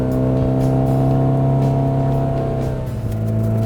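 Doral 185 Sunquest bowrider accelerating out of the hole, its engine a loud, steady drone that climbs slightly in pitch, with water rushing and wind underneath and no speech.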